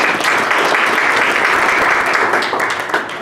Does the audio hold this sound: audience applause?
yes